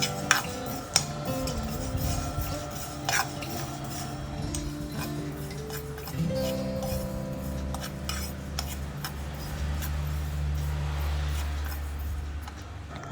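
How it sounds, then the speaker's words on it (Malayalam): Black sesame seeds dry roasting in a pan, with a spoon scraping and clinking against the metal in repeated strokes over a faint background hum, and no voices. "കറുത്ത എള്ള് ഇതുപോലെ തന്നെ നന്നായിട്ട് വറുത്തെടുക്കുക."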